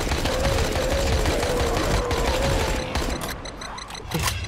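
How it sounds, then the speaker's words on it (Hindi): Rapid sustained gunfire from a gun in the zombie game Dying Light: The Following, dense and loud throughout, easing slightly near the end before a final sharp burst. "गन का रिकॉइल भी बहुत है।"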